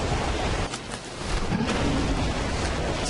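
Video game thunderstorm: heavy, steady rain hiss with low rolling thunder swelling midway, dense and continuous, with no talking.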